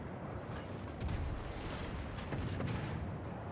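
Bismarck battleship secondary guns firing in World of Warships during a ranked naval battle: a continuous rumble of overlapping booms and muffled blasts, with a heavier thump about a second in and more bursts toward the end.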